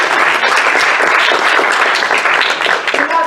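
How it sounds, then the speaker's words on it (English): Audience applause for the marketing team at an IEEE student branch event, a dense, steady burst of many hands clapping that fills the whole stretch and stays loud throughout. "I'd like to give a bit of applause"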